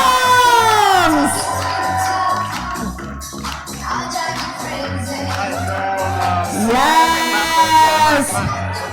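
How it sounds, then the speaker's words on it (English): At a Chessboxing Mayhem 2022 bout, the crowd cheers and whoops for chessboxer Crazy Arms in loud swelling bursts, mixed with shouting and an amplified announcer voice over a thumping music beat. "Let's have a huge cheer for our Crazy Arms!"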